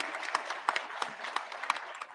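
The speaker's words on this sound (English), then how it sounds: "Can we have a round of applause for Bruce, please, as well, for asking that?" Conference audience giving a short, faint round of applause for panelist Bruce at a digital health plenary session, scattered claps with a few sharper hits, distant and thin.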